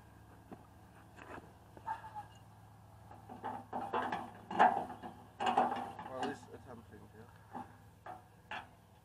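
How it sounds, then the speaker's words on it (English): A wrench loosening the roller pivot bolt on a Nova Tractor MFZ195 flail mower, with repeated ratcheting clicks and metallic clanks in uneven bursts and a steady low hum underneath. "Now we're loosening the pivot point for the roller"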